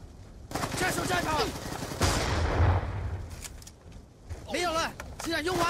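Rapid bursts of gunfire in a multiplayer shooter round crackle and rattle in quick succession, loud and close, mixed with excited shouting and talk from players over the top.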